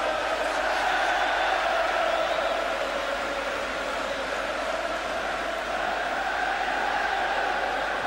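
A football stadium crowd roars after an England goal against Turkey in a 1986 World Cup qualifier, a sustained, dense wall of cheering and chanting that holds steady throughout.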